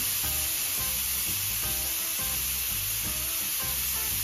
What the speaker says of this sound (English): So you have to grill it on very hot grill